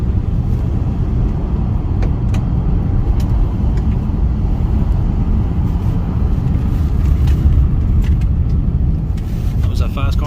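Interior of a car driving over a rough road with steady loud engine and tire rumble, punctuated by a few sharp ticks and clicks of stones striking the body.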